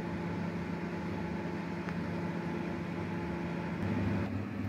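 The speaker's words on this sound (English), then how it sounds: "I got a sesame seed bun that I need to heat up in the microwave just for a few seconds." A microwave oven hums steadily while warming a sesame seed bun for a burger, a constant mechanical drone with a faint fan whir and no talk, holding at an even level throughout.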